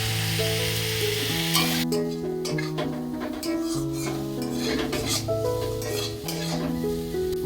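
Potatoes frying in a pan for a raw-tomato puti fish chorchori: a constant sizzle with spatula scrapes and clinks, running under loud steady background music.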